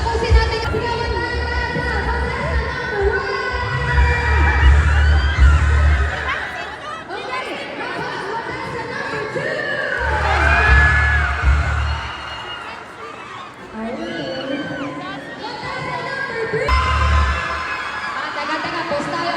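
Crowd at a Shake, Rattle & Roll Evil Origins event with several cast members shouting, cheering and chattering in loud swells that rise and fall, with a speaker's voice talking over the noise.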